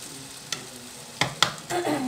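Chopped tomatoes frying in a pan while being stirred, with a few sharp scraping knocks of the spoon against the pan over a low steady sizzle that swells toward the end.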